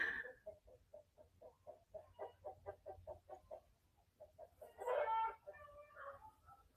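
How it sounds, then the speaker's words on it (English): Chickens clucking in a steady, rhythmic series of close, quiet calls, with one louder squawk rising briefly before the clucking resumes. "The chickens are awake."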